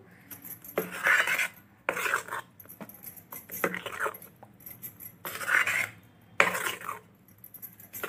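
A honey hair-mask mixture is stirred in a bowl in separate bursts, a spoon scraping and clinking against the sides several times with short quiet gaps between strokes.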